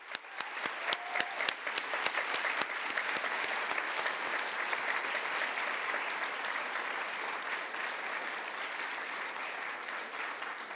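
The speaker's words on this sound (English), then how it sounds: "We have, yeah, another round of applause." An audience at a talk event applauds, starting with a few distinct claps and swelling into dense, even clapping that holds steady and moderately loud to the end.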